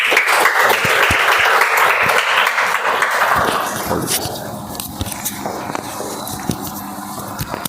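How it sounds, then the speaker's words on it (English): A room of members at a Toastmasters meeting applauds, a dense burst of clapping that thins out and fades after a few seconds into scattered claps and light room noise. "Please give him a big round of applause."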